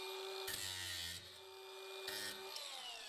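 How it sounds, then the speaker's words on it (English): A power grinder whines steadily while grinding down a protruding nail during a storage shed remodel, with harsher bursts of metal grinding at contact; close and fairly loud, with no talk. "I do have one more nail down there that I should probably grind"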